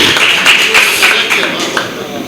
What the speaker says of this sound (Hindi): एक बार ताली बजा दिए उनके लिए